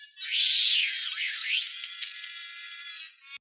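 A single drawn-out, high-pitched meow from an early Tom and Jerry cartoon cat, bright and slightly electronic, holding for about three seconds before cutting off.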